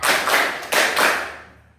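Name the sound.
counted group hand clapping in class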